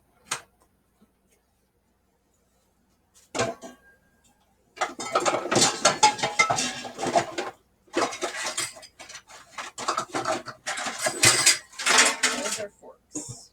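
Forks clattering and jangling in a kitchen during meatless meatball prep, with a few isolated clinks followed by sustained bursts of metallic rattling and jostling, close and fairly loud.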